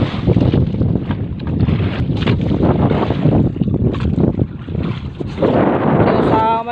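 A repaired boat engine runs steadily out on the water. The motor drone is loud and continuous, with wind buffeting the microphone throughout.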